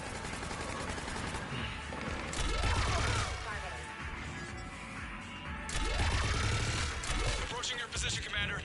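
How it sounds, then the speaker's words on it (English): Gunfire in the Mass Effect 3 video game, two loud bursts of rapid shots with crashing impacts, each lasting a second or so, over constant battle noise and effects. "Just following the gunfire"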